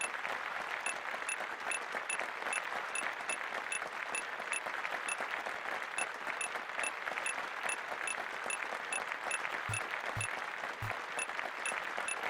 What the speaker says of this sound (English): that looping applause can be a little annoying